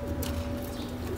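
Pigeons give a soft, low, steady cooing in a brief stretch, close by, with no talk over it.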